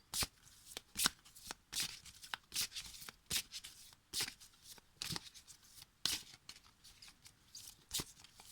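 Oracle cards from the deck "J'ouvre mes ailes" are shuffled by hand in a steady run of soft, riffling flutters with short pauses between bursts, close up and without any talking.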